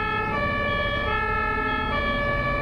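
An ambulance siren wails continuously in German road traffic, loud and close, its steady two-tone cry ringing over faint vehicle rumble.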